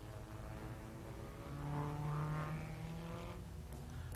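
A Formula 2 Cooper Climax racing car from 1957 passes on the Nordschleife circuit during the German Grand Prix, its engine drone swelling briefly then fading, faint and distant.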